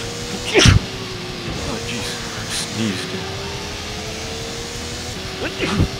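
A short, sharp sneeze bursts out early over the steady drone of a racing car engine in Gran Turismo, with a couple of smaller sneeze-like bursts later under the continuous engine hum.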